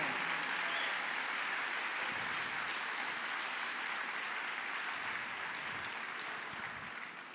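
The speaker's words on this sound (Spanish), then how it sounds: "fuerte ese aplauso al Señor." A church congregation gives the Lord a long, loud round of applause, dense steady clapping filling the room for several seconds with no voices over it.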